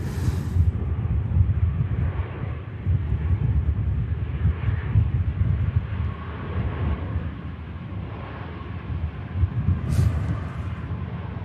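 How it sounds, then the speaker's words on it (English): An EasyJet Airbus A321 taking off from Manchester Airport, bound for Paris, produces a sustained broad roar. The engine noise is loud and steady, swelling slightly near the end, with wind buffeting and no clear speech. "next should get the Paris bound 321 out of here, of EasyJet"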